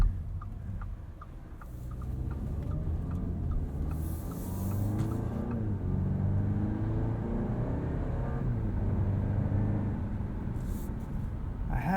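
A 2020 Audi A4 45 Premium sedan cruises along the road, its engine and tyre drone forming a steady, moderately loud rumble that swells slightly as the car picks up pace, with no talking.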